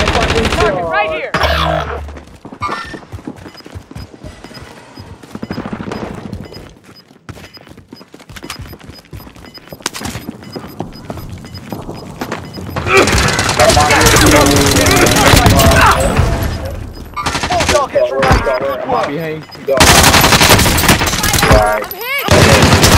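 Rapid automatic gunfire and bursts of shots in the Warzone video game, loud and dense, with heavy battle noise throughout while players talk over the action.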